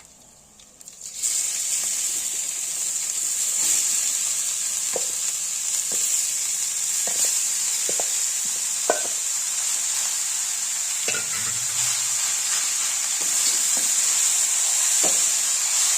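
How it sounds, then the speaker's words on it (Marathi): Carrots and raisins sauté in a pan for carrot halwa, giving a steady bright sizzle throughout with occasional soft spatula scrapes and stirring clicks, close and fairly loud, with no talking. "गाजर छान असं पहिलं परतून घ्यायचं"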